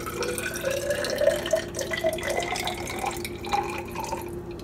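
Water is poured carefully into a round container with no lip, giving a steady trickling, splashing stream with a few drips, close by and with no talking.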